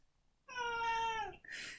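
A single drawn-out cat meow, close and fairly quiet, followed by a brief rustle.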